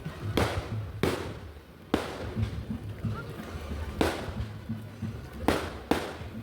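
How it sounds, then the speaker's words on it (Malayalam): A series of loud, sharp fireworks blasts at a church feast festival, roughly every second, booming and echoing over a low background hum, with faint distant crowd noise between bursts. "അതിമനോഹരമായ വെടിക്കെട്ടായിരുന്നു"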